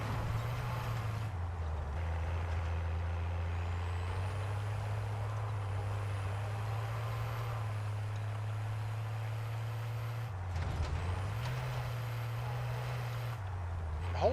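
A damaged truck in the Call of Duty Warzone video game drives on with a low, steady engine drone that shifts pitch as it changes gear, joined by a hiss like air brakes, with no talk over it.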